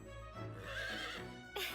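A horse in the Fire Emblem Warriors: Three Hopes video game gives a long, rising and falling whinny at moderate volume, followed by a brief snort-like burst at the end.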